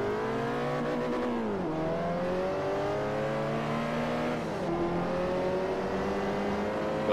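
A race car's engine in Forza Motorsport 4 revs steadily, its tone climbing through the gears with two clear dips at gear changes, loud and continuous, no talking.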